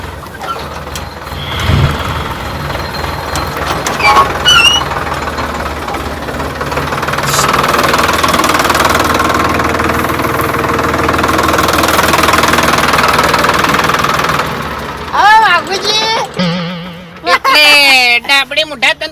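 A tractor engine runs with a steady, loud drone that holds for several seconds beside a millet field, while voices talk over and around it.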